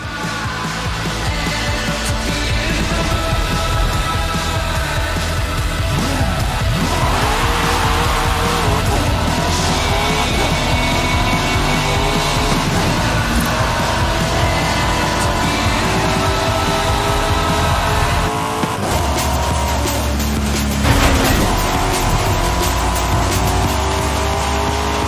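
Race cars roaring and squealing their tires in Forza Horizon 5, loud continuous engine noise with rising and falling revs and skids, with a voice speaking briefly over it.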